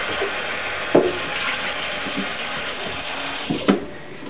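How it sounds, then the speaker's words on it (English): Tap water runs steadily while the pulp bin of a centrifugal juicer is rinsed, a continuous close gush broken by a couple of brief knocks of the plastic bin. "then just simply rinse the pulp bin out"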